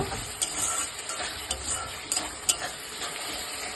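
Soaked chickpeas and peanuts stir-fry in a spice paste, a dense close sizzle with light rhythmic spatula ticks and scrapes against the pan throughout.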